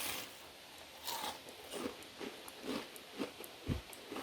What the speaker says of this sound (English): listen to that crunch again